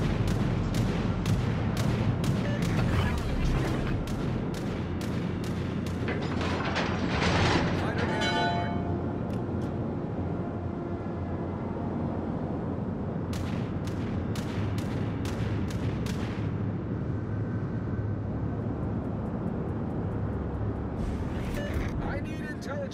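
Heavy artillery fire in a combat video game: a rapid series of loud booming blasts through the opening seconds, then a dense rumbling battlefield bed with further scattered explosions, while radio-style voices give orders over it.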